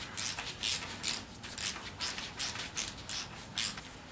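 A hand ratchet clicks in repeated rhythmic strokes while a bolt is backed out on a Yamaha RD 400 motorcycle during kickstand work, with steady close clicking bursts throughout and no talking.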